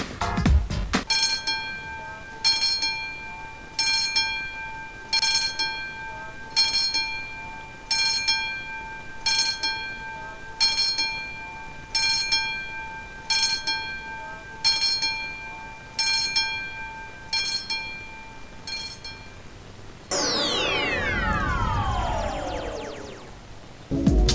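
Railway level crossing warning bell ringing in a steady, evenly spaced series of about a dozen loud metallic strokes, followed by a train passing close by with a rising rush and screech.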